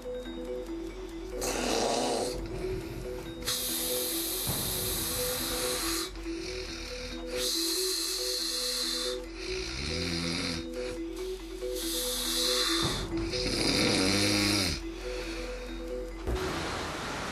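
A sleeping woman snores steadily, each loud rasping breath recurring roughly every two seconds in an even rhythm, close to the microphone over a faint hiss, with no talking.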